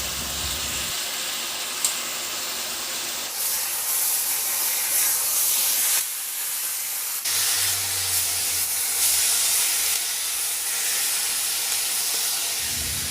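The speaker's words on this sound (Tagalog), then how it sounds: "Ilagay ko na yung binabad nating pork liempo." Marinated pork belly goes into a hot pan with tomato paste, giving a loud, continuous sizzling hiss that swells and shifts as the meat settles, with no talking.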